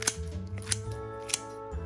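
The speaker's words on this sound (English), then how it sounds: "Cut the kimchi. I like to use scissors," Kitchen scissors snip through kimchi in three sharp, separate cuts, close and fairly quiet against a faint background hum.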